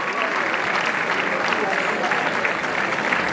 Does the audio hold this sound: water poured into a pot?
no